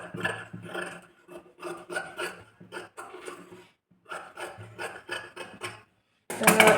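Blouse fabric trimmed with scissors: repeated crisp, rasping snips and rubbing strokes in quick bursts, pausing briefly before a final louder rustle, close and without speech.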